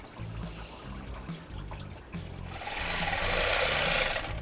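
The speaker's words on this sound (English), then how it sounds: "Just going to let that drain a little bit here" Coolant drains from a removed engine water pump into a recycling catch container, starting as scattered drips and scraping before swelling into a steady, close splashing trickle during the second half.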